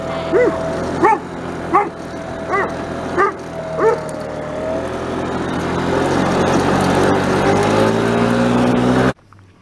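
A dog barks loudly in a series of about six sharp barks, then an engine drones steadily underneath until an abrupt cut at the end.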